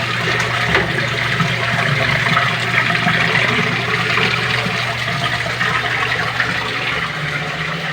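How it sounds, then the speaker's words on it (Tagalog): Water drains from an automatic washing machine that has been emptying slowly, making a steady, loud rushing and gurgling flow that goes on unbroken and close, with no talking. "Budaluak na yung tubig."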